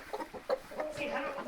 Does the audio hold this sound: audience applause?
no